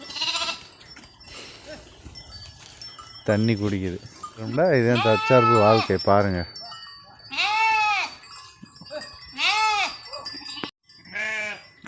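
Sheep bleat several times nearby in the rain, with loud wavering cries. Someone talks in between the calls.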